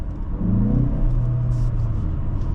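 A 2024 Mazda CX-30 Turbo Premium accelerates in sport mode, its engine drone rising steadily in pitch, heard from inside the cabin, loud and continuous.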